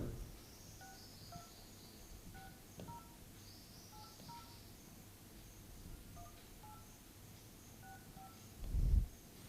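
Telephone keypad dialing tones, a series of short beeps in irregular groups across the clip over a low background hum, with a brief thump near the end.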